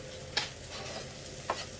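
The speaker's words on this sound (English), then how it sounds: "So this is the point where we're frying, so we've got to keep mixing it around." Minced beef sizzles softly in a pan while it is stirred, with two quick scraping strokes of the spoon standing out over the steady low fry.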